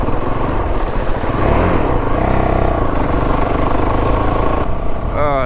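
Motorcycle riding along a trail in the Blue Ridge WMA, a steady mid-pitched engine drone held throughout with slight shifts in pitch, close and loud, with a voice talking over it.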